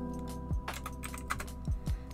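A new computer keyboard is typed on in an irregular run of clicky keystrokes over a steady electronic background hum, close and moderately loud.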